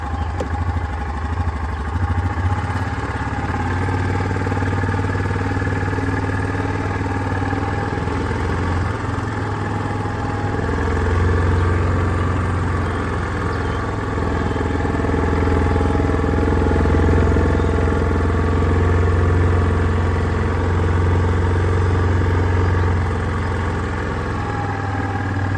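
A 2022 Kodiak 450 ATV engine with factory exhaust runs steadily for a long stretch, a low, even drone that shifts slightly in pitch as the vehicle rides along.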